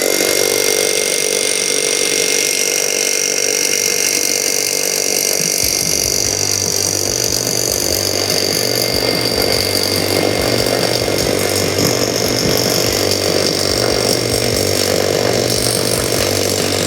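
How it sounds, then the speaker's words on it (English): A power drill boring a 10-inch deep hole, a loud continuous whine and grinding that deepens partway through as the bit goes further in. "We're gonna drill 10 inches deep."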